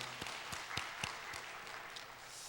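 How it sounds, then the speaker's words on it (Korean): Scattered hand claps from a church congregation during a Sunday service, a few distinct sharp claps over a soft hum, fairly faint and thin rather than full applause. "우리 하나님께 영광의 박수 올려드리겠습니다"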